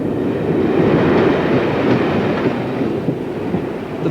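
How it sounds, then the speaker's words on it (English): A commuter train bound for Waterloo rumbles steadily and loudly from inside the carriage, with a constant wheel-on-rail roar and faint rhythmic clatter. "the train journey to Waterloo, lasts about an hour."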